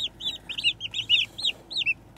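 Young turkeys, a mix of hens and toms, peep in a rapid run of high, arched calls, close and fairly loud, with no talking over them.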